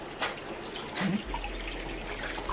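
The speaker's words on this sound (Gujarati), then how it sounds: "અત્યારે નળ આવ્યા છે એટલે પાણી ભરે છે" Tap water runs steadily from a village faucet while containers are filled, a soft continuous trickle and gush at close range with no talking.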